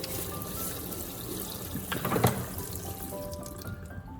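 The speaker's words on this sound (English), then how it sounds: "I rinse the beetroots directly under running water" Beetroots are rinsed under a running kitchen tap, a steady close wash of water with a brief splashy burst near the middle as they are scrubbed, fading out at the end.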